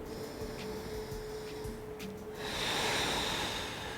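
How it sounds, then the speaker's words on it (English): Deep breathing during a lower-body workout, a steady slow inhale and a longer airy exhale close to the mic over a constant background hum. "One more deep inhale and exhale"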